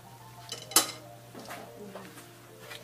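Metal tongs clink against a pan while browning ube condensed milk treats are flipped, a few light scrapes and one sharp clack standing out over a low steady hum.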